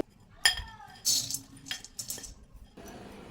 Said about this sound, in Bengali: এদিকে দেখুন একটা কড়াই নিয়ে নিয়েছি